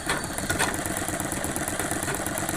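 A sewing machine stitches down a pant side pocket, a steady rapid mechanical whirring and knocking that runs continuously and fairly loud, close by, with no speech over it.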